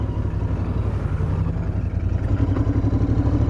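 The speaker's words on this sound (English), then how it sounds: "listen to that thump thump, as people like to describe it, of a Royal Enfield engine." A Royal Enfield Interceptor 650 motorcycle engine runs steadily nearby with a low, even thumping rumble and no talk over it.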